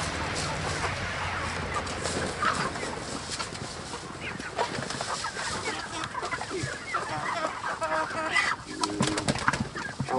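Backyard chickens cluck and murmur before processing on a homestead, a busy, continuous mix of clucks set against outdoor background noise, with a person speaking now and then.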